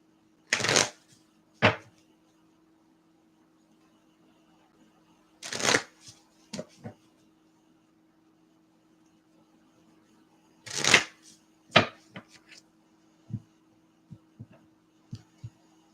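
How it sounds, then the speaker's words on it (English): A deck of oracle cards is riffled and shuffled in several quick bursts, close and crisp, separated by quiet pauses over a faint low hum. "Let's shuffle this and then we'll get started with this last question."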